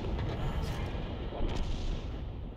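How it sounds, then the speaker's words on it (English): Booming artillery shot from a 105 leFH18B2 self-propelled gun in a tank battle video game, a dense low rumble that fills the whole moment, loud and close with no speech over it. "He fires, but he looks away. He did actually hit the target."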